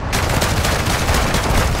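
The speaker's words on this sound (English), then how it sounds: "You are taking effective fire." Sustained heavy gunfire in Call of Duty MW2 DMZ, a loud, dense barrage of rapid shots continuing without pause.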